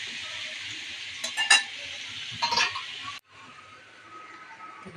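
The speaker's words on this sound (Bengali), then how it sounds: "নেড়ে চেড়ে নিচ্ছি।" Kalonji and torn dried chillies tempering in oil in a frying pan, a steady hiss of sizzling broken by two brief stirring scrapes before the sound drops suddenly and resumes quieter.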